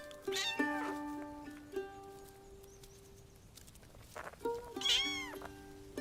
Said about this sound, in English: Bobcat kittens, just 4 weeks old.